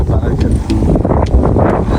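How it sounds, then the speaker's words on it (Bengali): Strong wind blows steadily outdoors beside village rice fields, buffeting the microphone with a continuous low rumble and roar that never lets up. "বাতাসের কারণে"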